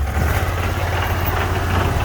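A 6HP Sears Suburban garden tractor engine idles loudly up close, a steady low rumble with an uneven knocking clunk running through it.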